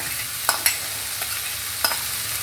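Chopped elephant foot yam stalks hiss and sizzle in a hot pan, with a few sharp scraping clicks of a spatula stirring them.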